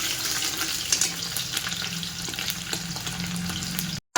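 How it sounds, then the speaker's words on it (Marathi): Garlic frying in hot oil in a pan, a steady close hiss and crackle of sizzling that runs almost the whole time before a sudden cutoff. "तेल गरम झाले चांगलं, त्याच्यामध्ये लसूण टाकायचं."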